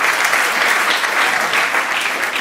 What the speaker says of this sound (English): I don't know if you're applauding me because of the accomplishment